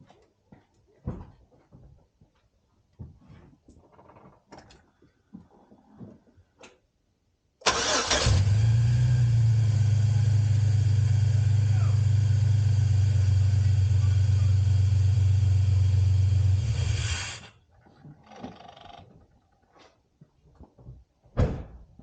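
A 2006 GMC Sierra engine cranks and fires after distributor repair, then settles into a loud, steady idle for about ten seconds before shutting off, with quiet workshop clatter and movement before and after.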